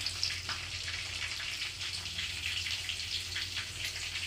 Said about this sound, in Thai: จะพาไปชมวิธีการทอดใช่ไหมครับ เดี๋ยวพาไปดู ครับ ทอดปลา